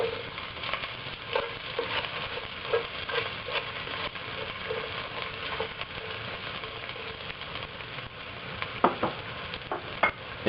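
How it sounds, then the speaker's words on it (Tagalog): Garlic and onions frying in hot oil for pininyahang manok, a steady close sizzle with occasional stirring clinks and scrapes of a utensil against the pan, no talking. "kapag mainit na yung oil, ilalagay na natin yung garlic. Then, yung onions."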